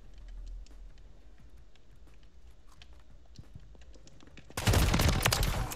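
Video game gunfire erupts near the end as a loud, dense burst of shots after a quieter stretch of faint scattered clicks and ambient noise.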